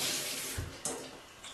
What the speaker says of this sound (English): do a rinse of the bottle, just in your own sink.